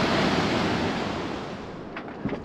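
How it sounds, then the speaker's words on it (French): Ocean waves breaking on the shore of La Gomera, a steady broadband wash of surf that slowly fades, with a couple of smaller splashes near the end and no voices. "J'entends le brouhaha des vagues."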